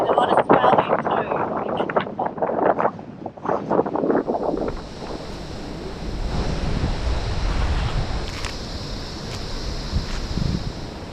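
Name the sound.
strong wind and ocean surf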